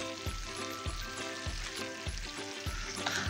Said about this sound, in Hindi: हमें इसे ऑयल में ही 10 मिनट तक पकाना है